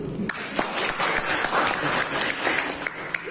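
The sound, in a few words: audience applauding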